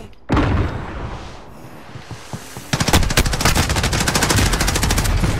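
Heavy automatic gunfire from a Call of Duty Warzone zombies match: a loud burst starts abruptly, then at about the midpoint gives way to rapid, dense machine-gun fire that keeps going to the end, with no talking.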